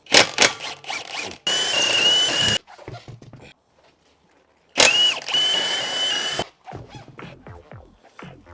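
Impact-style power tool removing the wheels of a jacked-up Lexus ES300h in a garage, two loud whirring bursts of about a second each with a high whine, separated by short clanks and a quiet pause, ending in quick ratcheting clicks.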